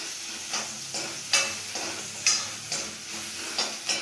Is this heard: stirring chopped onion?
yes